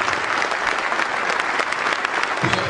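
Young men stand while a gathered audience at a community meeting gives them a round of applause, a thick, even wash of clapping from start to finish.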